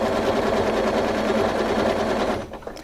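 A sewing machine stitches while quilting along a Shorty ruler, its needle running in a steady, loud, close hum for over two seconds before it winds down and stops.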